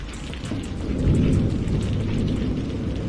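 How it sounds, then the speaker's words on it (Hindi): Cartoon rain pours down while thunder rumbles low and heavy under it, with a steady hiss of falling water and no voices during the storm. "चोर नहीं रे मूर्ख, बारिश आई है।"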